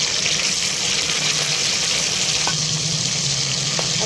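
Green chillies fry in hot oil in a kadai, giving a loud, continuous, dense sizzle with small pops and crackles throughout; no voices.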